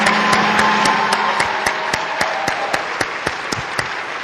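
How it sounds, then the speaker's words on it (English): An audience at a 2012 Martin Luther King Day celebration applauds, full clapping that thins toward the end into a few scattered claps, with no voices over it. "Give me another round of applause."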